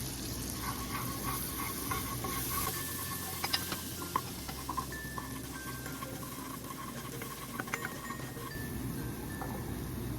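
Butter and all-purpose flour sizzle while being stirred together in a pan for a homemade chicken and vegetable pizza roux, a steady close frying hiss with scraping stir sounds and occasional light clinks; no talking.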